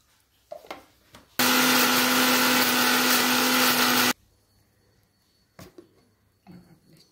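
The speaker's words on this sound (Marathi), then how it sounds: "चला आता इथं आपलं आळू छान वाटून झालेलं आहे" A kitchen mixer grinder whirs loudly for about three seconds as it grinds taro leaves, a steady motor drone with a clear start and stop, framed by quieter handling clatter before and after.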